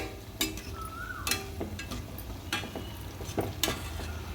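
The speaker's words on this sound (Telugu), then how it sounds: "ఇవైతే బాగా వేగాలండి" Cauliflower pieces for gobi fried rice fry in hot oil with a soft, close crackling sizzle, broken by sharp spattering pops and the occasional clink of a utensil.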